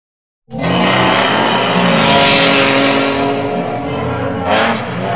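Street stock race cars roar past on a speedway track, a sudden dense engine blare that stays loud and sustained with overlapping revving motors and a brief squeal near the end.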